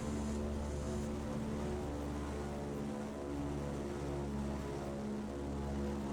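A vintage propeller airliner in Microsoft Flight Simulator 2024, such as a Boeing 247D or Boeing 307, drones with a steady, loud, harmonic engine hum that holds an even pitch throughout.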